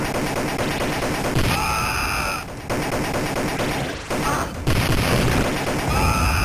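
Gunfire from the Judge Dredd arcade game by Midway, rapid loud bursts of blasts running almost continuously with brief breaks, close and dense, with a voice briefly audible.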